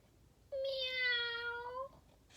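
A gray and white kitten meows once in a single drawn-out, clear cry lasting over a second, close and alone against a quiet background.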